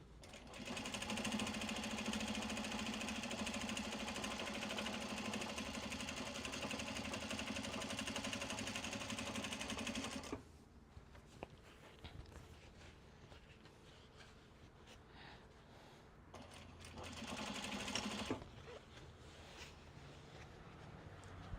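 A sewing machine top-stitches a Japanese fabric bag in a long steady whirring run, pauses with quiet handling noises, then restarts for a brief second burst.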